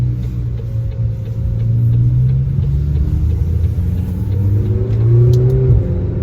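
A McLaren GT engine gives a mellow, steady growl that rises and swells as the revs climb, loud and close, with no talking.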